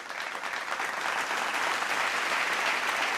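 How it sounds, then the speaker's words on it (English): Audience applause at a speaker series event, a dense, steady wash of many hands clapping at close range, sustained throughout with no talk over it. "Give a round of applause."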